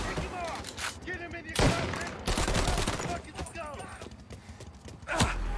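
Sniper and other gunfire in the video game Mafia Definitive Edition, with sharp loud shots and bursts mixed with game noise, hoof-like clatter and background effects while players talk over it.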